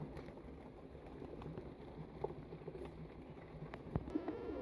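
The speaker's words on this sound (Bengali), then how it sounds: "এক পেয়ার কবুতর এখানে বাচ্চাও আছে" Soft, low pigeon coos sound faintly over a quiet background, with a few scattered taps and rustles.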